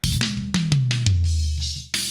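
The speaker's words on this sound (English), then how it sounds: "I had to brighten up the toms even more." Drum toms brightened with SSL EQ, a fast descending tom fill of several sharp hits rolling from high to low pitch, ending in a cymbal-like crash, alone without talk.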